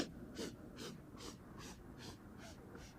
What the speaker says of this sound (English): slowly sit up and do little sniffs